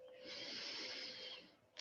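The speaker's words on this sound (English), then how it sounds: "Taking a breath in" A single long, steady inhalation drawn through the nose during a yoga practice, close and breathy, filling most of the moment before ending with a faint click, no talking.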